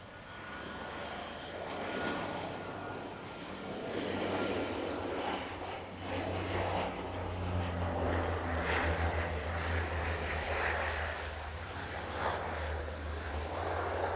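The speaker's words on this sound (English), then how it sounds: "Bit of a bounce there from the RVL as it touches down this evening." An aircraft touches down at East Midlands Airport in the evening. A steady distant engine roar with a low rumble rises and falls gently across the whole stretch, and no voices are heard.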